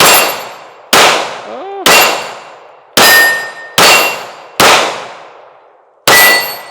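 Loud, close reports from a Sig P365 Fuse pistol, seven shots spaced about a second apart, each followed by a ringing metallic clang of steel targets that fades before the next; a brief rising whistle-like ring sits between two shots.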